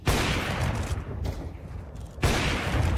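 Dense gunfire from a professional Counter-Strike match, FURIA versus 9z at the 2024 Shanghai Major RMR, rattles in loud continuous bursts with a brief lull partway through.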